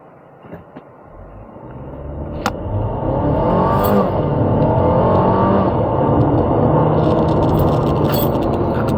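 A 2023 MG 5 Essence in sport mode accelerates hard, its engine note climbing steadily from a quieter start into a loud, sustained roar as the turbo comes on, with no talking.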